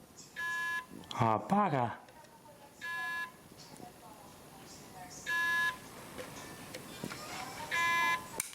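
A Seagate Barracuda 7200.12 slimline hard drive gives four spaced electronic beeps, each a steady tone lasting about half a second, separated by a couple of seconds; a man mutters briefly early on.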